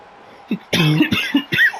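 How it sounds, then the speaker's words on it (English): A short burst of coughing and throat-clearing, close and loud, a few rough hacks in quick succession. "Apologies for the cough."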